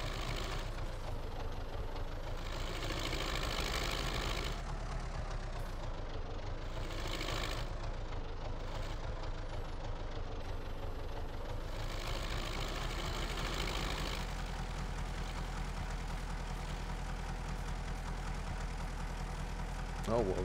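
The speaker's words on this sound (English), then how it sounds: "It's when you have to force the engine that it really gets nuts on you." A tractor or farm vehicle engine idles and runs steadily in Farming Simulator 19, a continuous low drone with a mechanical whirr that swells and eases over about twenty seconds, moderately loud with talking on top.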